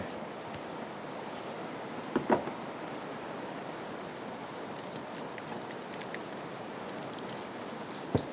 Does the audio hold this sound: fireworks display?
no